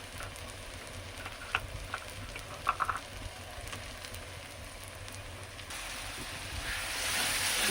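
Ginger and garlic paste frying in a pan gives a low, steady sizzle with a few soft clinks of stirring, rising slightly toward the end; no voices.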